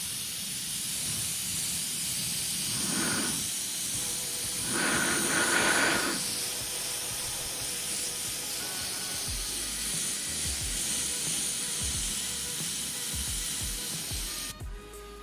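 An airbrush hisses steadily while spraying aged patina paint onto an Early Bronco, with a few louder bursts of spray and faint handling noises underneath, close and continuous.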